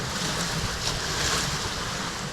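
Ocean waves wash around a sailing catamaran at night on the Atlantic, a steady broadband rush of surf and water with wind noise buffeting the microphone, no voices.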